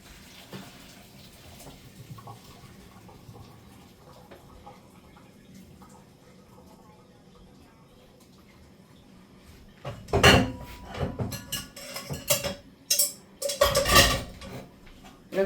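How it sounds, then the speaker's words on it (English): Boiled potatoes drained in a colander, a quiet stretch of faint kitchen rustling followed by clattering pot and metal knocks with splashing water, loud and close near the end. "I'm gonna take these potatoes right now and I'm gonna drain them really quick"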